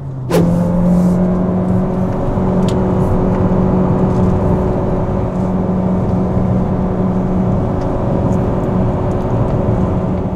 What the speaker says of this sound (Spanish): Esto es pedal a fondo